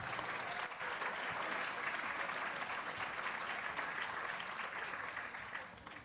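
Sustained applause from an audience at a public talk on women's issues, a dense even wash of clapping that holds steady for several seconds before easing off, with no voices over it.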